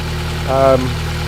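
A Vauxhall Astra H 1.6 engine idles steadily just after a cold start on a freshly replaced engine, a low even hum throughout, with a short voice-like tone rising briefly over it midway.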